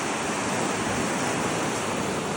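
Waves breaking on the beach at Salmon Point as the tide comes in, a steady close wash of surf filling the sound with dense, even noise and no voices.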